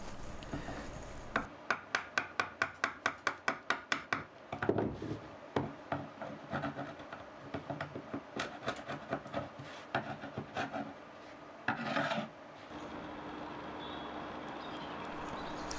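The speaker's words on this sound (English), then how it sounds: "I've got a few bits of epoxy and glue that need to be scraped off with an old chisel." An old chisel scraping epoxy and glue off a wooden workbench: a quick run of rhythmic rasping strokes, then slower irregular scrapes and knocks, close and fairly quiet, with no talking.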